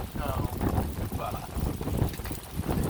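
Gusty outdoor wind buffets the microphone with a rough, low rumble that rises and falls, while a faint, muffled voice sits underneath.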